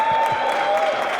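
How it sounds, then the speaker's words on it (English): An audience at a reunion closing reception applauds, a dense, steady wash of clapping throughout a brief moment, fairly loud and continuous. "But we all give a round of applause to David as well."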